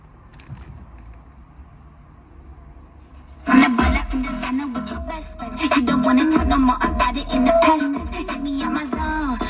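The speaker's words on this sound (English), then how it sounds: "Show you guys how this radio works." The stock car radio plays inside a Toyota Supra MK3. After a few seconds of near silence, music starts abruptly and continues steadily at moderate loudness.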